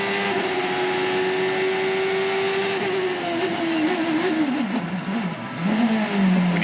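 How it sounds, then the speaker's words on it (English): A CART race car engine drones at a steady high pitch, then wavers and drops away as it quiets under heavy braking with the rear wheels locked, before picking up again, at the 2003 Cleveland Grand Prix. "Hear the engine go quiet like that. That is the rear wheels being locked."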